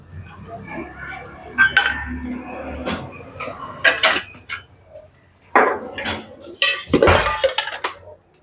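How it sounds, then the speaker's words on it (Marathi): Chopped chillies and other ingredients are dropped into a steel mixer jar in a home kitchen, giving a run of irregular metallic clinks and clatters, some louder than others. "आता आपण मिक्सर जार कपमध्ये याला टाकून घेऊ"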